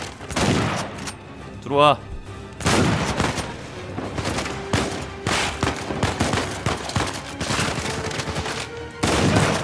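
Gunfire in the video game Uncharted 4 comes as repeated loud, close shotgun-style blasts and bursts of shots mixed with game effects. A voice briefly speaks over it.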